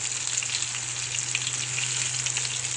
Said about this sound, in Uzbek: Farshimiz qovuryapti.